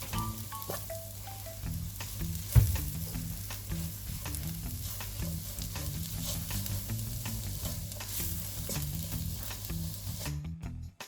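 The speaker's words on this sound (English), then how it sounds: "I'm going to put 2 tablespoons of plain flour. Give it a good mix." Plain flour is stirred into a sizzling cooking pan for a creamy cheese cabbage pasta, a steady frying hiss with scraping stirs and one sharp knock, alone without talk.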